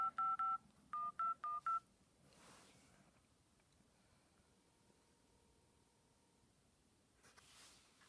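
Touch-tone keypad beeps from a phone's native dialer: a quick burst of separate dialing tones at the start, followed by near-silence with faint line hiss and a soft thump near the end.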